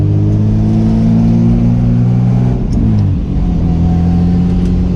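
A Lexus SC300 drift car with a leaky exhaust revs hard and close, a loud rasping drone that holds steady, dips briefly as the revs fall, then settles into a lower, rough hum.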